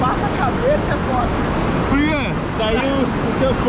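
A waterfall in Mato Grosso pours with a steady, loud, broadband roar that fills the whole stretch without a break, while voices call out faintly in the background.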